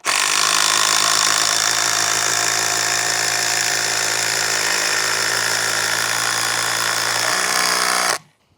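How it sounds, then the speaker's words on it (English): A cordless FlexVolt impact drill drives screws, running continuously at full speed for several seconds, loud and close, with a steady high-pitched whine before stopping abruptly. "I drill majority of these things in with an impact drill"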